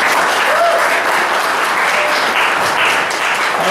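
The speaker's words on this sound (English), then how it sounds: "Can everybody give a round of applause for their contributions?" An audience claps at a talk on letterforms and type design, a dense, even round of applause that fills the room for several seconds without speech.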